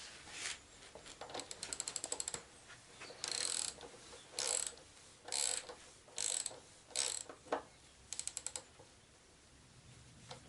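Brake bolts on a Yamaha XJ6 motorcycle being tightened with a ratchet, coming in several bursts of rapid clicking separated by short pauses, close and clear, with no voices.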